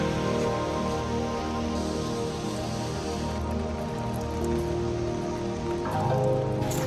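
Steady rain falls on the grounds of a temple in the Kawaguchi area near Mt. Fuji, a dense, even patter of drops hitting surfaces that stays constant and fairly close throughout.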